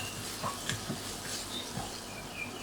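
Powdered garlic frying in a hot pan at the start of a Thai stir-fried beef, a faint, steady sizzle with light crackles and a few soft clicks.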